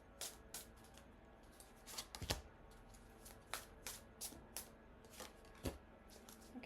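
Tarot cards being shuffled by hand come as a series of soft, crisp riffling bursts at an uneven rhythm, quiet and close, with no talking.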